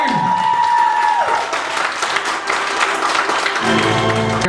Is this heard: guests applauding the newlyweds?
yes